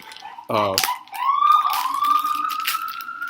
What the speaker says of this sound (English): That siren is going crazy because no one will get out of the car's way.